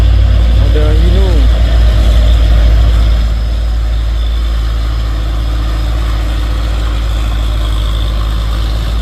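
A Hino truck engine rumbles in a deep, steady, loud drone close by, with someone briefly speaking over it at the start.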